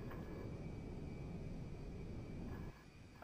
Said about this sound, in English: the sounds of that fucking plane